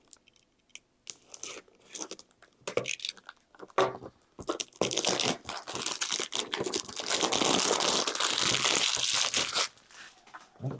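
A pack of Jemz tooth whitening gum being opened gives close, loud crinkling and crunching of packaging, starting in scattered rustles and building into a sustained crackle before quieting.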